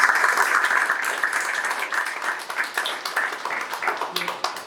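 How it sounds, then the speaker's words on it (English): Steady crowd applause at an outdoor press conference for the lowering of the Roslyn Grist Mill onto its new foundation, a dense, sustained patter of many hands at moderate volume, continuing evenly throughout. "Let's give them a round of applause, please."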